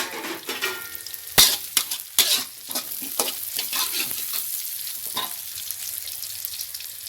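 Twenty dried chillies and a head of garlic fry in a spoonful of oil in a pan, giving a bright continuous sizzle broken by sharp clacks and scrapes of a spatula stirring, close and loud, with no talking.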